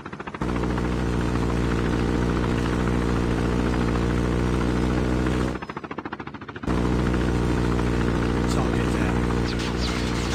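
Loud, continuous chopper gunner helicopter rotor and engine drone in Call of Duty Mobile, with a heavy low thrum, briefly cutting out midway before resuming at full strength.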